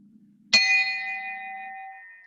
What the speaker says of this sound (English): today I ring the final bell